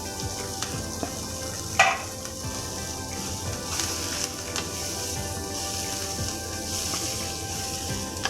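Chopped vegetables sizzle steadily in two tablespoons of hot oil, a continuous crackling fry with a few sharper pops and spits, close and clear with no voices.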